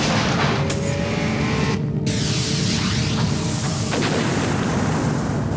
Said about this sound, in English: The Miller Genuine Draft Rusty Wallace stock car.